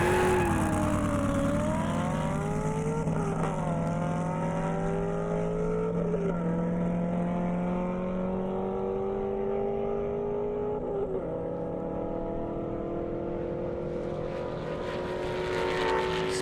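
Corvette Z06 racing down an airstrip at a roll race event: a loud engine roar rising through several gear changes, pitch climbing then dropping at each shift, with a second car's drone blended underneath and no speech.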